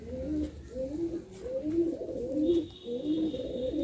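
Madrasi pigeons coo in a steady, repeating rhythm of soft rolling calls, close by and fairly loud, with a faint steady whine in the background for the latter half.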